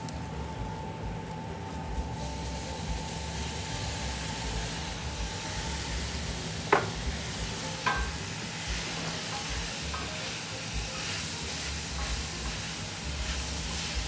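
Beef returned to a hot pan for caldereta, sizzling steadily as it is stirred, with a couple of sharp scraping clinks of the utensil against the pan; a continuous close frying hiss throughout, no talking.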